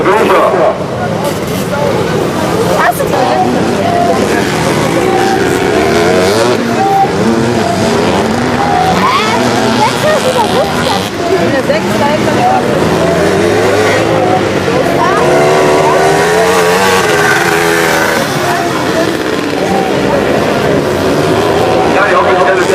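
Vintage twin-shock motocross motorcycles racing at a classic motocross event in Wilnsdorf, engines revving and buzzing continuously at close range, with an announcer talking over the racket.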